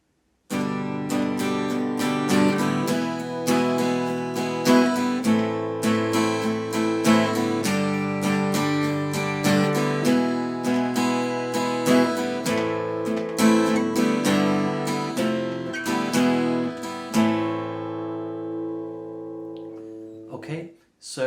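Acoustic guitar plays the outro of a song in a steady strummed rhythm of close, fairly loud chords, running for most of the stretch before fading out, with no talk.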